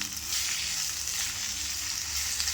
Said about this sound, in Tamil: துருவி வச்ச மாங்காய் இதோடு சேர்த்துக்கலாம். நல்லா கலந்து விட்டுக்கலாம்.